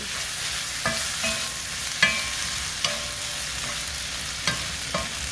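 Chopped, peeled green chile stirred into meat in a pot for green chile stew: a constant loud sizzle with occasional spoon knocks and scrapes against the pot, no talking.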